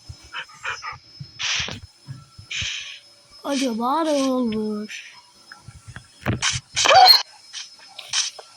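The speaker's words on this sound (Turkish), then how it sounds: "Aa, köpek saldırdı." A dog yelps and lets out a long, wavering whine while attacking in a video game, with people talking excitedly in Turkish before and after.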